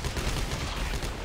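Dense, continuous gunfire from weapons in the sci-fi horror video game Dead Space 3, a loud, sustained burst of shots with no pauses and no voices over it.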